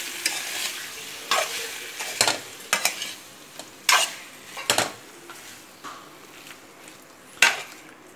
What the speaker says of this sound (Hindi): ये क्रीम डाल के इसको मिक्स करेंगे और गैस को बंद कर देंगे।